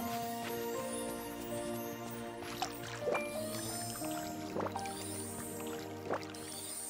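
A watering can pours over crops in Disney Dreamlight Valley, soft splashing and dripping with squishy wet plops recurring every second or so above a steady bed of background game music.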